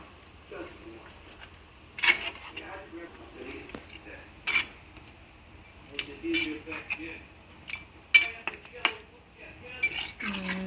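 A spoon stirs a cooking pot after turmeric powder goes in, producing scattered metallic clinks and scrapes against the pot, with a voice talking in the background.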